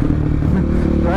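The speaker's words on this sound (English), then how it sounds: "Riding my supermoto." A supermoto motorcycle rides along with a steady, loud engine drone and rumble close to the microphone, while a voice talks over it.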